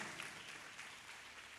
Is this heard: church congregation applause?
yes